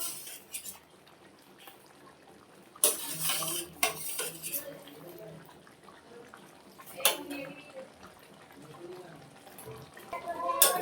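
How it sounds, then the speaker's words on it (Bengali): Beaten sour curd goes into a pan for doi katla, heard as clattering utensils and metal scrapes against the pan with splashy liquid bursts at intervals, close and fairly loud. "এখন আমি ফেটিয়ে রাখা দইগুলো দিয়ে দিলাম"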